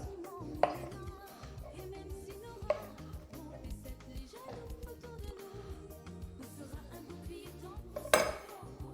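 Plantain bananas being cut in a kitchen: quiet clinks of cutlery and dishes with a few sharper knocks against a board or plate, close and soft over faint background noise.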